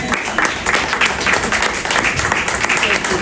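Applause from an audience at a church talk show, a dense burst of many hands clapping close and loud, with a little voice mixed in.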